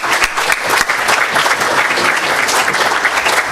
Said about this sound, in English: let's have a round of applause for these sisters and brothers